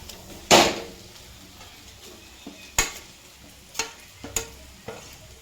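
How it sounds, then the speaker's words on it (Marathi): Potato being stirred into a patty filling in a pan, with a few separate scraping and clinking strokes of the spoon against the metal. The strokes are soft and scattered, with quiet gaps between them. "आणि छान असं मिक्स करून घ्यायचं आपल्याला"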